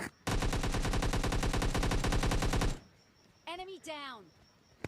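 A Vector submachine gun in PUBG Mobile Lite fires one long, loud, rapid automatic burst of about two and a half seconds, followed by quieter game sounds and a rising and falling electronic effect.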